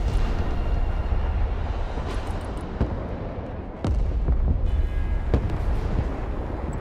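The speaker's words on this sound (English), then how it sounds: "Cruise missiles inbound." Cruise missile strikes in the military strategy game Broken Arrow land as a series of sharp, distant blasts and cracks scattered over a constant rumbling battlefield background.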